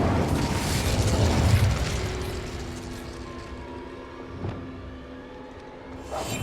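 An Incendio fire spell is cast in a goblin mine in Hogwarts Legacy, giving a loud, whooshing burst that swells, then rumbles and fades gradually with faint crackles near the end.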